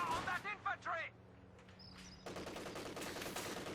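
A Maxim machine gun opens fire in Company of Heroes 2. A brief voice comes first, then a sustained, rattling burst of automatic fire at moderate distance.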